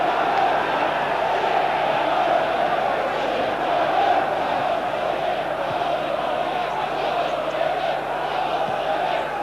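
A football stadium crowd at a Derby versus Nottingham Forest match gives a steady, dense roar throughout, with no distinct cheers or peaks, just a continuous wash of massed voices.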